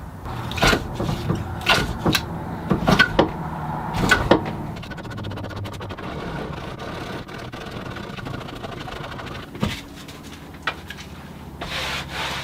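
An old No. 5 hand plane scraping across the rough, split face of a log: repeated rasping strokes, loud and close, with irregular rhythm and a quieter stretch of steady rubbing in the middle.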